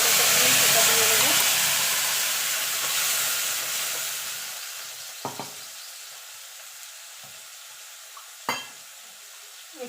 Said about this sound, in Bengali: এবার ফোড়নটা একটুখানি ভাজা ভাজা করে নেব